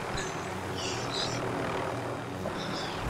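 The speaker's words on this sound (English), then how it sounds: "land on your helicopter" A helicopter in Call of Duty: Warzone gives a steady, dense rotor and engine roar that stays fairly loud throughout, with faint game sounds mixed in.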